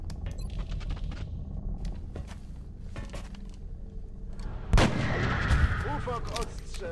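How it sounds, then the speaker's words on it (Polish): Gunfire in the video game XCOM: Enemy Within, a sudden loud weapon blast cracking out after a quieter stretch of game sounds, followed by rumbling aftermath, with someone speaking over the gameplay. "Strzał w głowę, no bo co mam zrobić?"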